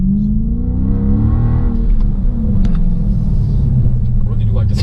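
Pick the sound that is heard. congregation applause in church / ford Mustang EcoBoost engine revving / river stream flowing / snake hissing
ford Mustang EcoBoost engine revving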